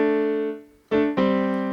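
A keyboard plays a short passage of a Bach toccata containing parallel fifths: sustained, rich chords that fade, then two loud new chords struck in quick succession, close and alone.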